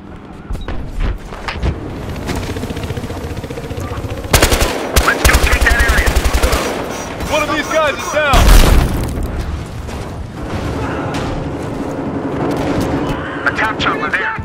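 Heavy automatic gunfire and booming blasts in a shooter video game, dense rapid bursts rattling loud and close for long stretches, with shouted voices over the battle.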